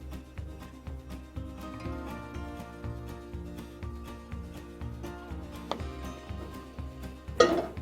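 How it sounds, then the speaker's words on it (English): Navy beans and cabbage stirred in a pot, soft regular scraping and knocking of a spoon against the pot with a louder clatter near the end, no voices. "Give that a good stir"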